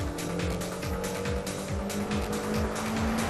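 A tuned Audi A4 accelerating hard from a standstill, engine revving up in a rising whine and shifting through gears in quick repeated sweeps, loud and close with no talk over it.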